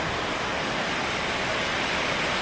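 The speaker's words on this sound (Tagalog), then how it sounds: "Tubig." Floodwater rushing in a steady, loud, broadband roar without pauses during a local flood, with no speech over it.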